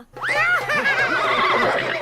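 A horse whinnies loudly and close, a long wavering neigh rising then falling over about two seconds, heard alone with no speech.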